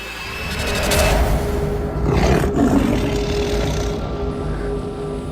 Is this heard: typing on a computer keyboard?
no